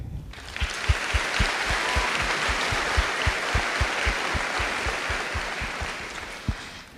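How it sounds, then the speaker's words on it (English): Crowd applause at a high school graduation ceremony honoring school principals, a steady broad wash of clapping from a large audience with a few sharper individual claps standing out. "please join me in a round of applause to honor them"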